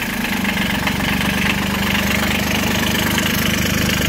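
A three-cylinder engine idles steadily nearby, a continuous low throbbing hum with an even pulsing rhythm and no voices.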